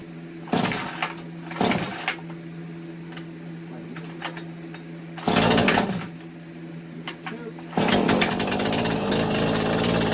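A stock Neotec 843 43cc chainsaw, a Husqvarna 543XP clone, runs on a dyno, idling steadily between loud broadband revving bursts that swell up close and hold at higher power toward the end.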